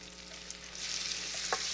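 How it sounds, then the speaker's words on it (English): Chili paste stir-fried in a hot pan with shrimp about to go in, giving a steady, close frying sizzle with a brief stir scrape near the end and no talking. "a quick sizzle, a quick stir fry"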